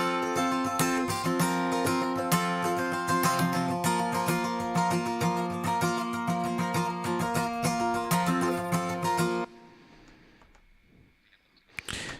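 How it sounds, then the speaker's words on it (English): Acoustic guitar strummed in an E shape, ringing chords with a steady rhythm for about nine seconds before cutting off, followed by near silence and a brief faint noise at the end. "The first one was playing an E shape, and that sounds like this."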